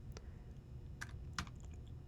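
A computer keyboard being typed on, with a few soft, sparse keystrokes over a low background hum, faint and close.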